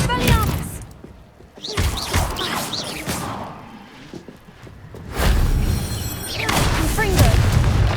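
Expelliarmus disarming spell cast in the video game Hogwarts Legacy: bursts of booming impacts, crashes and whooshing magic effects, loud and close, swelling and fading in waves amid game combat noise.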